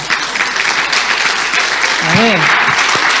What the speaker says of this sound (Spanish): hay un aplauso